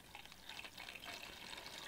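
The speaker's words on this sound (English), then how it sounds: "the easiest way that I found is actually just to get a different container and use that to pour water into the bag" Water poured from a separate container into a Sawyer Squeeze filter bag, a steady, bright splashing and gurgling stream that runs unbroken for about two seconds, fairly quiet and alone.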